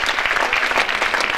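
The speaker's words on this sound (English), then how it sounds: "So a big round of applause to you children." A school talent show audience breaks into steady applause for the children, a dense, even patter of clapping hands with no talk over it.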